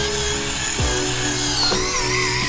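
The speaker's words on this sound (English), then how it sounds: "This is the auger." A power auger bores a planting hole in garden soil, a loud continuous motor whine and grind that runs steadily, dips in pitch briefly near the start, then surges again, with no talking.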